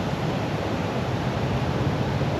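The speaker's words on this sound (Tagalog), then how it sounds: "Magdamag tayong merong tunog ng alon na naririnig." Steady broadband wash of ocean surf at night beside a camper van parked along the Philippine coast, a continuous even roar with no distinct breaking crests, fairly close and alone without voices.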